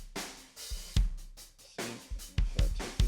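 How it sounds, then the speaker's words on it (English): With the gate bypassed, the kick drum microphone on a recording picks up the whole drum kit. Dense, busy hits and cymbal wash bleed through around the kick's heavy thumps in a continuous groove. "this is just the microphone on the kick drum, and you can hear the whole drum kit"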